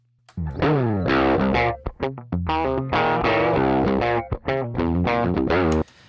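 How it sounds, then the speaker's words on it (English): A guitar plays a fast run of notes through heavy, saturated distortion, loud and buzzing, with short gaps between phrases. "when we hear this type of heavy distortion"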